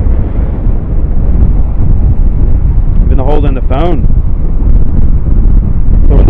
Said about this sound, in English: I know it's going to be a little windy on your end, so I apologize.